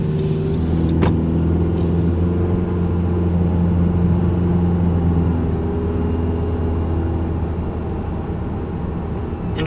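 Steady low hum and road rumble from inside a 2019 Honda Civic sedan with a CVT, driving at an even pace, fairly quiet cabin drone with tyre noise and no talking.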